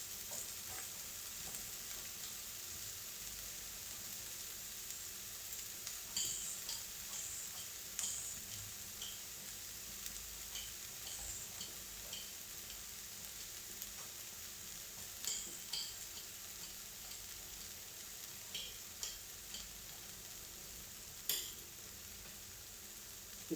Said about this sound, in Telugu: బాగా వేగాలండి.